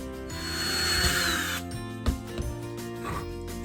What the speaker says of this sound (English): we'll drill a hole through the side for the pin